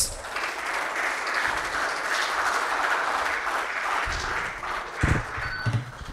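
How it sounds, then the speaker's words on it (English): Audience applause welcoming Raghavendra, Chief Sustainability Communications Officer, at an MOU signing ceremony between Aikya Vidya Hare Krishna Movement Hyderabad and Woxen University; steady dense clapping fills the room throughout, with a few louder bumps near the end. "please welcome him with a big round of applause"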